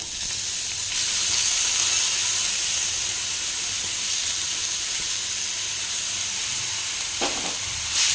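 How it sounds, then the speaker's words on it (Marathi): Grated carrot sautés in a large spoonful of ghee in a wok for carrot halwa, giving a continuous, even, loud sizzling hiss with a brief stir near the end. "कढईमध्ये एक मोठा चमचा भरून तूप घेतलंय, आणि आता हा किस आहे तो आपण या तुपामध्ये परतून घेऊया छान।"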